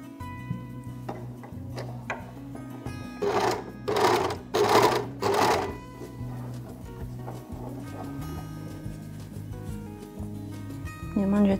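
Sewing machine stitching three layers of fabric together for a homemade face mask, a loud rapid mechanical chatter in several bursts with a steady hum underneath, close by.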